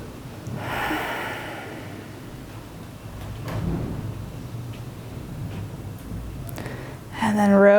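Breathing during a yoga pose: a few slow, audible inhales and exhales, close and fairly loud, with a short burst of voice at the end.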